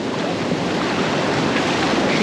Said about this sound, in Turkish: Dalga da güçlendi.